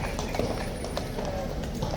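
Close, continuous clip-clop of horse hooves as horses arrive, with irregular overlapping hoofbeats over a noisy outdoor background.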